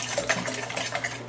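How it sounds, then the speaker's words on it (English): A whisk scrapes steadily around a bowl as milk is worked into a cinnamon mixture, a continuous close-up swishing and clinking with no voices. "And then I'm going to slowly whisk in. This is 2 cups of milk."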